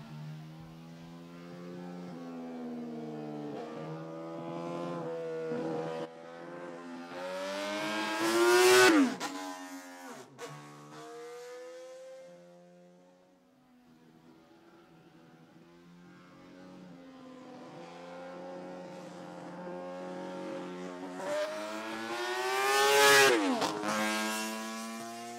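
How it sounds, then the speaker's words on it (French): Classic Honda six-cylinder racing motorcycle lapping a circuit at a classic bike meeting in Chimay, its high-pitched multi-cylinder wail climbing through gears, passing close twice with sharp peaks and fading between passes. "La mythique Honda 6 cylindres. Ici, en piste pour deux tours."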